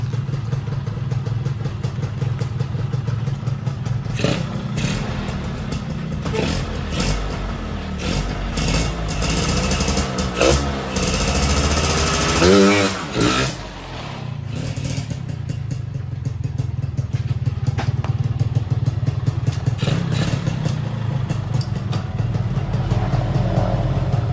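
A Kawasaki Ninja motorcycle fitted with a VM28 carburetor revs repeatedly, its engine note rising and falling in sharp bursts with one hard pass near the middle, loud and close, no talking.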